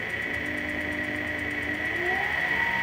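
A WEN 3420 variable speed benchtop wood lathe runs steadily while carbide tools cut a spindle, giving a continuous motor hum with a rising whine near the end as the speed increases.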